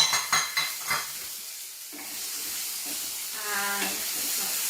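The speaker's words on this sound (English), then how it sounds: "that's just sizzling because the liquid obviously is still on the chickpeas" Chickpeas and defrosted frozen peas sizzle in a hot pan, a steady hiss with a few stirring clinks and scrapes at the start, close and moderately loud.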